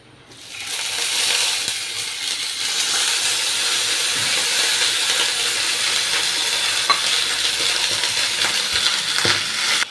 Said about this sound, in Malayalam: ഇനി ഇതിലേക്ക് അല്പം വെള്ളം പച്ചവെള്ളം ഒഴിച്ചു കൊടുക്കും